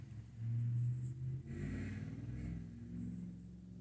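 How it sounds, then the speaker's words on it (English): A car engine revs and rumbles in the background as someone races it nearby, a faint low drone swelling and fading across a few seconds with no speech over it. "Somebody's racing their car."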